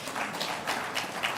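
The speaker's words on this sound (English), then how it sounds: "Another round of applause for" Audience applause at a reflective indaba gathering, a steady wash of clapping lasting a little over a second at moderate level.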